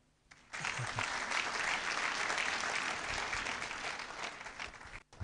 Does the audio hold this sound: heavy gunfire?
no